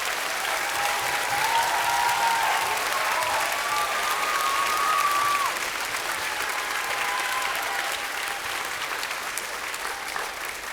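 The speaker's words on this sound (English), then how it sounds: "One more round of applause." Sustained applause from a school audience at a middle school choral concert, a steady dense wash of clapping lasting throughout, with a faint tonal line above it and a slight fade toward the end.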